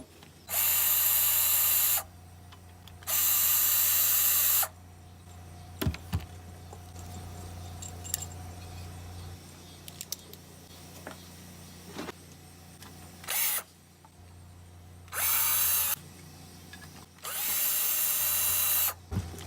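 Lawnmower gas tube fittings being loosened on a mower teardown: several loud, close bursts of a powered ratchet or drill whirring in two-second runs, with quieter clicks and handling noises between them.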